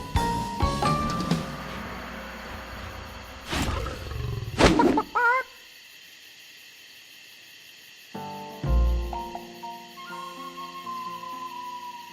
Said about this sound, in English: Which way does that tiger go?